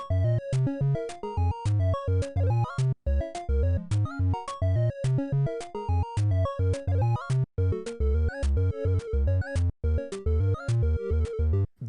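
Pico-8 game sound effects serve as percussion in a fast, steady chiptune loop of sharp electronic hits over low pulsing tones, continuous and loud with no speech.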